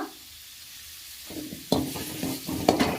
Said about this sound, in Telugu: క్యారెట్ ముక్కలు వేసి ఫ్రై చేయాలి ఇలా కొద్దిసేపు ఫ్రై చేసుకోవాలి